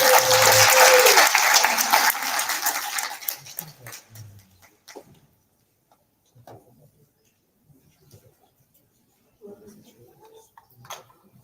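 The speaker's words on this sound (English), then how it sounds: "So put your hands together for Nancy Guyton." Loud crowd applause at a small business summit, bursting out for about three seconds then fading into scattered claps and quiet murmurs.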